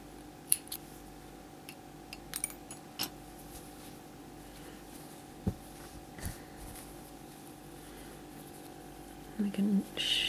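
Scissors snip crochet yarn while finishing a green-topped pumpkin hat, with several sharp, close clicks scattered among soft handling noise.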